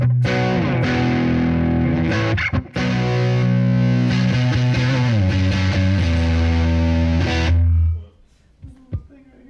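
Loud, sustained electric guitar chords distorted through a Kemper amp profiler ring out continuously, with a brief dip partway through, then cut off near the end leaving quiet.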